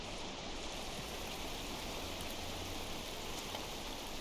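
Falling water in the video game Rain World makes a faint, even hiss like steady rainfall that continues unbroken, with no voices.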